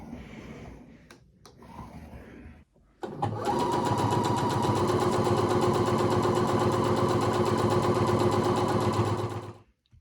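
A domestic sewing machine starts after brief handling noises and runs at a steady, fast, even stitch rate for about six seconds, quilting fabric Easter egg place mats, loud and close, with no talk.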